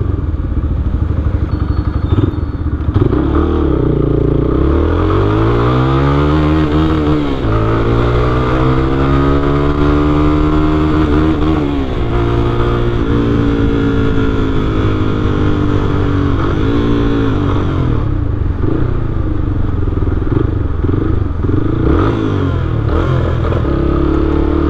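A Fazer 250 cc motorcycle with a Fortuna sport exhaust revs repeatedly, pitch climbing and falling with each throttle burst, loud and close with a steady rumbling idle between.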